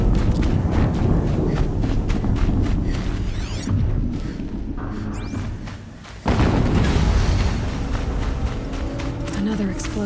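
A sudden deep boom from an explosion in the video game Horizon Zero Dawn, breaking in loudly after a brief dip and rumbling on amid thuds and background game noise.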